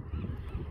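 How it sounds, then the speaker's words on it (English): Duck calling outdoors on a cold day at Coos Bay, a honking, goose-like call that is loud and continuous with low rough tones throughout the short moment, with no talk over it. "Oh, it might have been a duck."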